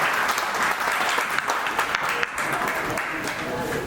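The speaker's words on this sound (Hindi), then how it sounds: "तालियों से थोड़ा" An audience at a poet's 90th birthday celebration applauds with steady, dense clapping that keeps up throughout, with some crowd noise mixed in.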